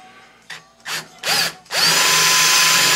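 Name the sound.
power drill drilling a clearance hole in a side panel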